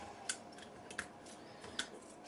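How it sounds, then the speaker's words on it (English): Three quiet, crisp scissor snips cut a piece of traditional 8mm film leader, evenly spaced and close by, with no talking. "So here we have some traditional 8mm leader. So I'm going to cut a piece"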